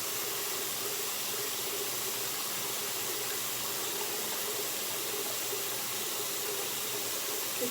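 A bathroom tap runs continuously while someone washes their face with cleanser, a steady, even rush of water that holds at the same level throughout with no talking.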